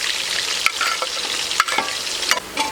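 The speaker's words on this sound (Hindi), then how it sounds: "अभी हम कढ़ाई को रखेंगे चूल्हे के ऊपर और इसमें डालेंगे कुकिंग ऑयल 200 ग्राम, 4 अदद कटे हुए प्याज शामिल करेंगे" Chopped onions fry in 200 grams of cooking oil in a kadhai, a loud continuous sizzle broken by several sharp scrapes of a stirring spoon, with no voices.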